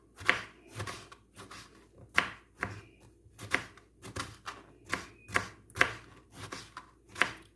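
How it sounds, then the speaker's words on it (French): A knife chops food into small pieces on a board, producing sharp, fairly quiet knocks in a loose, quick rhythm with brief pauses between groups of strokes, close up and without talking. "Je le coupe en petits bouts, vite fait, comme ça, il cuit plus vite."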